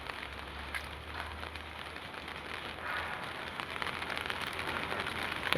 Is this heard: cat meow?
no